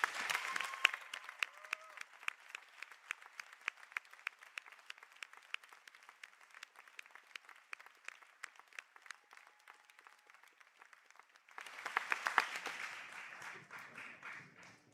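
A crowd applauds steadily at a graduation conferring ceremony, with dense clapping that carries on throughout, then swells louder toward the end.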